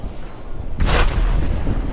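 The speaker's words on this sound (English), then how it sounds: "you can see the explosion is huge but the damage is less" A nuclear explosion fired from a launcher in a modded GTA 5 game, heard as a sudden loud boom that bursts in near the start and rolls on as a sustained, rumbling roar to the end.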